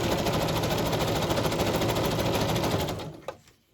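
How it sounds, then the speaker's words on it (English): A sewing machine running fast and steady, stitching down a triple pocket on a paper journal page, loud and close, with a rapid mechanical needle rhythm that slows and stops at the end. "Turn your volume down if you don't like the sewing machine."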